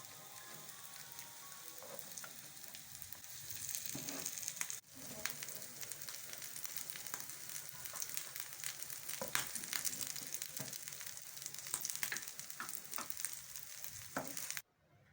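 Chicken and potato kebabs fry in hot oil in a pan, giving a steady close sizzle with bursts of popping and crackling, a brief clatter midway and an abrupt stop at the end.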